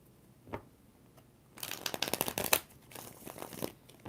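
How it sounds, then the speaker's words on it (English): Tarot cards are shuffled by hand close by, with a couple of soft taps and then a dense burst of rapid riffling flutters and slaps, followed by a few looser card sounds. "Like literally when I started shuffling, they came out."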